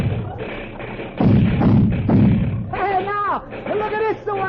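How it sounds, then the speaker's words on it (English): Firecrackers go off in an old radio comedy's Independence Day parade scene as a series of thumping bursts, followed by excited crowd voices and shouting layered over the noise. "who's lighting all these firecrackers?"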